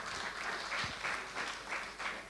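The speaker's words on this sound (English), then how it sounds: "Can we give her a round of applause?" A convention audience in Southern Africa applauds, a dense wash of clapping from many hands, steady and moderately loud, lasting a couple of seconds.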